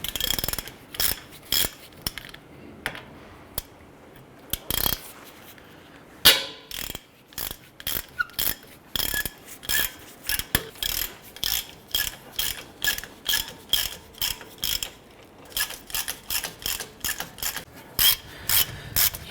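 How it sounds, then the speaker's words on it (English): Ratchet loosening 17mm hub bolts on a Honda Pilot's front knuckle, a steady run of rapid metallic clicking strokes close up, repeated in quick rhythmic bursts with brief pauses between, no talking. "Let's go ahead and loosen those bolts."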